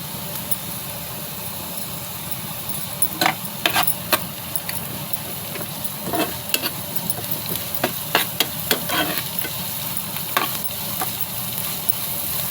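Onion with curry leaves sizzles in a pan while a spoon stirs it, a continuous frying hiss broken by short scraping clicks from the stirring.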